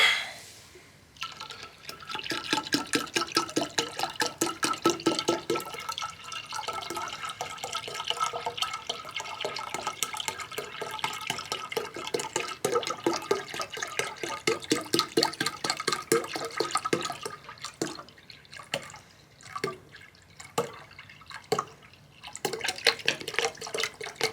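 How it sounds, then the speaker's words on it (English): Ginger ale poured into pineapple juice in a kitchen, a steady fizzing, trickling stream that runs for about twenty seconds and turns into a few choppier splashes near the end, close by with no talking. "And then put our ginger ale in."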